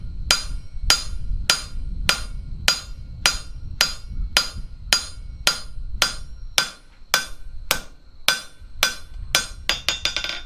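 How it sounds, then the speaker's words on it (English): Straight full-face hammer blows on hot steel while forging an acanthus leaf, a steady series of about twenty loud ringing strikes at an even rhythm, ending in a quicker cluster of lighter taps. "we're just coming down with just straight up, full face hammer blows"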